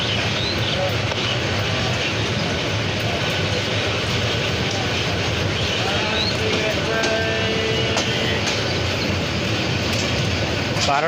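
Tista Express passenger train running out of Dewanbazar toward Dewanganj, heard as a loud continuous rumble and rattle of the moving carriages, with a few faint tonal squeals and some speech in the background.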